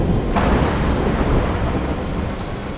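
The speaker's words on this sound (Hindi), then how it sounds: "बहुत तेज बारिश हो रही थी और बिजली कड़क रही थी।" Heavy rain pours steadily in a thick hiss while thunder rumbles low underneath, the storm loud and close throughout with no voices.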